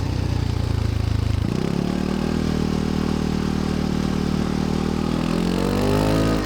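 A Kymco G7 scooter engine on a race track accelerating out of a corner, its loud continuous drone rising steadily in pitch after a brief shift in tone, close and alone.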